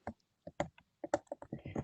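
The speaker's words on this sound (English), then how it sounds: "So I'm just typing while I'm thinking" Someone types on a computer keyboard during a committee meeting, with quick, uneven clusters of close clicks and short gaps between keystrokes.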